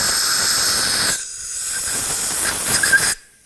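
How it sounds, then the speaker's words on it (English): Compressed air gently blowing debris out of a brake hole on a 2003-2012 Nissan Murano, giving two close hissing bursts, the first about a second long and the second about two seconds, with a brief gap between and no talk. "Now I'm just going to gently blow the hole out"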